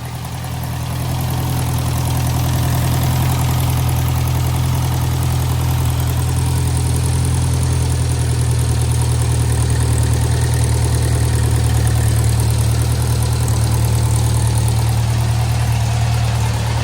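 A French-built Massey Harris Pony 812 tractor engine idles with a loud, steady low drone and an even mechanical hum throughout, with no voices.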